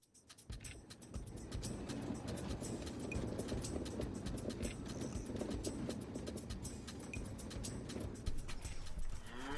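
Dairy cows on a small farm herd of about 25, lowing steadily amid a dense, continuous barnyard din, with occasional hoof clatter and no talk.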